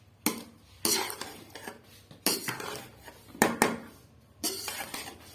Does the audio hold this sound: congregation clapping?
no